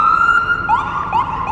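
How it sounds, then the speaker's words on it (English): An ambulance siren wails while passing along a busy downtown Toronto street, its rising and falling tone loud and steady throughout. "A ambulance"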